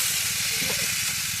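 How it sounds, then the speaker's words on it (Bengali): Water poured into a hot pan of sautéed daliya with vegetables and dal, a loud close hiss and steaming rush that holds steady for its whole short span. "এবার পরিমাণ মতো জল দিয়ে দেবো।"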